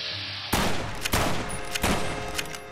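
Gunfire in Fallout New Vegas, a burst of four or five loud, sharp shots spaced roughly half a second apart, each with a short ringing tail, after a brief quieter lead-in.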